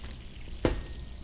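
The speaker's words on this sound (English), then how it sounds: "So we are waffling and we are chicken frying at the same time." Chicken frying in oil while waffles cook alongside gives a steady, soft sizzle, broken by one brief louder crackle or stir near the middle, with no talking.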